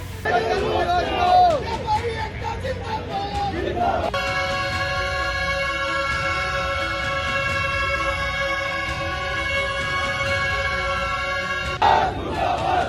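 Angry traders shouting at a protest rally against the police in Bhawani Mandi, a dense, loud crowd roar broken in the middle by a long, steady horn-like drone before the shouting resumes.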